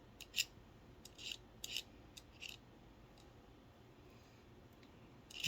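Blade cutting out a sticker by hand, faint dry scraping strokes in short irregular bursts against a quiet background.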